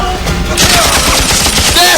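Rapid gunfire from an action film set at a police station, a dense loud fusillade of machine-gun bursts with booming impacts filling the clip.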